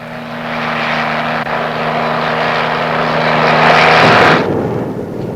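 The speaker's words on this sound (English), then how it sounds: "the versatile helicopter, a rugged workhorse with tremendous lift capacity" Army helicopter, a rugged heavy-lift workhorse, flying with a steady loud engine drone and rotor roar, a low hum holding until it cuts out near the end, leaving broadband rushing noise.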